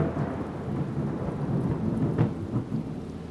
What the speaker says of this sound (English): the thunder is so loud compared to just the background